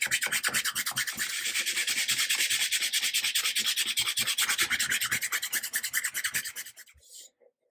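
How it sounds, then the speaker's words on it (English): Sandpaper of 220 grit rubs back and forth over a plastic inlay in the wooden headstock of a 1954 Gretsch Synchromatic guitar, a fast, steady rasping rhythm close up that slows and stops near the end. "Still some more sanding to go to flatten all this out."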